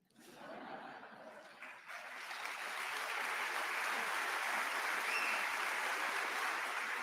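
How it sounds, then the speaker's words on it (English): Applause from a commencement audience for Harrison Butker's speech at a Catholic college, starting faint and swelling into steady, sustained clapping that holds for several seconds, with a few faint voices mixed in. "Of course, he's going to get applause for that."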